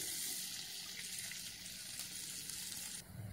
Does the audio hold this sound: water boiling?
yes